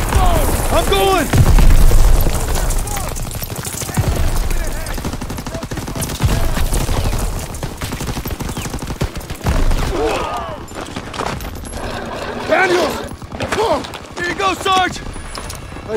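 Sustained bursts of automatic gunfire and booming explosions from a World War II battle in the Call of Duty WW2 video game, loud and continuous throughout, with shouted voices breaking through the combat.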